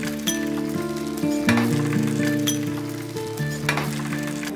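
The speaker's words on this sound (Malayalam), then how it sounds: "അങ്ങനെ എണ്ണ ചൂടായി നമ്മൾ കടുകിട്ടു കടുക് പൊട്ടിച്ചതിന് ശേഷം കറിവേപ്പിലയിട്ടു" Curry leaves fry with mustard seeds in hot oil for a fish curry, giving a loud, steady sizzle close by. Light clinks from a utensil cut in now and then.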